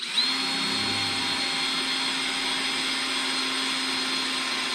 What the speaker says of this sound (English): Drill our second hole.